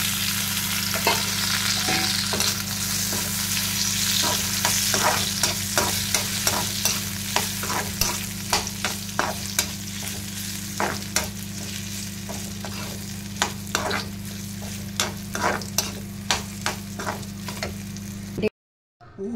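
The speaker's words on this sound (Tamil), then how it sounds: "எண்ணெயும் ஊற்றிட்டு இந்த உருளைக்கிழங்கையும் அதில் வச்சு ஃப்ரை பண்ணிடலாம்." Potatoes fry in hot oil in a pan with a steady sizzle, broken by frequent clinks and scrapes of a spatula stirring them, close and continuous for about eighteen seconds before cutting off.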